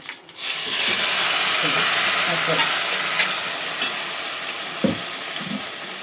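Food sizzles loudly in a hot pan over high heat while a utensil stirs and scrapes bottle gourd chutney ingredients, with a couple of sharp knocks against the pan.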